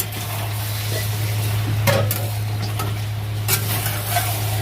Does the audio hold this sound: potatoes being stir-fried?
yes